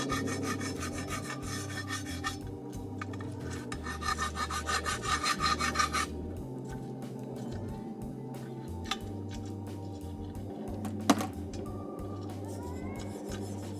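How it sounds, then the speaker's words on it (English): Hand file scraping rough spots off the metal of a caboose being prepped for paint: a rhythmic series of rasping strokes, louder for the first few seconds, then lighter intermittent scrapes with a sharp clank near the end. "we're just filing away the rougher spots on here"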